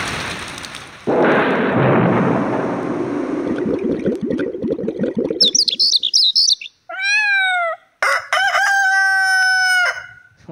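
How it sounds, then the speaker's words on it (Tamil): Rooster crowing sound effect played on a Casio CT-X9000IN keyboard: a loud noisy wash of sound gives way to bright, repeated crow-like calls, loud and close, with no voices. "கோழி கூற மாதிரியே இருக்குது."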